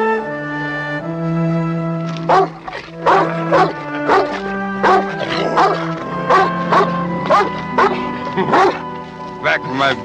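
A dog yips and barks in quick bursts near a voice in the outdoor wilderness setting of The Call of the Wild, the calls coming in a rapid run over a sustained musical score.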